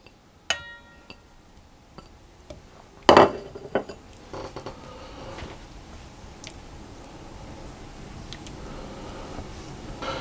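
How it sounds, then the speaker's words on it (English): Butter stirred into melting chocolate and cream in a pan, with a few sharp clinks of utensil on the pan followed by soft scraping and stirring, close and fairly quiet, no talking. "I'm going to put in my butter, and I'm going to stir that around until that has also melted."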